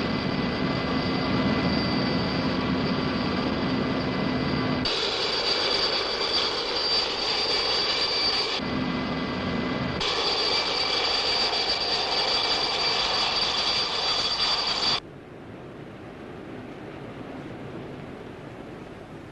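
A torpedo-tracking helicopter lands on the Swedish naval ship Älvsborg in 1971 footage, its engine and rotor roaring steadily and loudly throughout, cutting abruptly in level and settling into a softer drone near the end.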